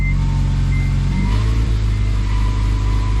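A Honda Civic Si engine revs as the car pulls away in second gear after a new clutch fitting, a loud, close, steady drone filling the whole moment with no talk.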